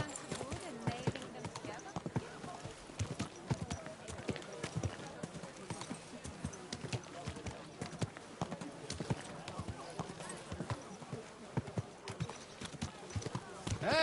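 Horse hooves clip-clop in a steady, continuous rhythm in the video game Kingdom Come: Deliverance 2, with a voice talking over the trotting.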